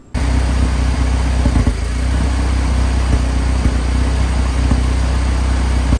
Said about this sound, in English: As you can see, it was misfiring pretty bad.